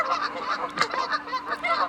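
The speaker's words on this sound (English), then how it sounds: "These geese are just not getting along at all." Geese squabbling near goslings, a rapid run of nasal honks in quick succession, close and fairly loud, with one sharper squawk in the middle.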